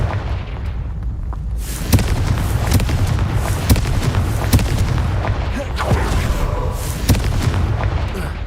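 The Confringo explosion spell in the video game Hogwarts Legacy sets off loud, deep booms. Several sharp blasts repeat over a rumbling, sustained low-end roar.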